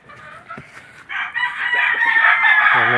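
A McLean hatch gamefowl rooster crows once, loud and close, the long call rising after some soft clucks and faint voices at the start.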